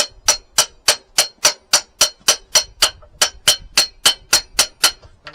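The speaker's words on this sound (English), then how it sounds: "Nice, gentle tap. It's moving." Gentle hammer taps on a part of a Honda CBR900RR Fireblade motorcycle, about fifteen light, evenly spaced metallic knocks in a steady rhythm, close and clear with no talk.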